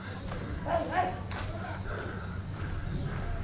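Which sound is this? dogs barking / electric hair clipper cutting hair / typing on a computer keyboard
dogs barking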